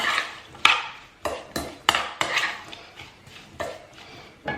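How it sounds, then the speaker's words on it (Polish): Cake batter for a quick creamed cake is stirred in a bowl, a spoon knocking and scraping against the sides in irregular, fairly loud clinks and swishes, with no talk. "Mieszam."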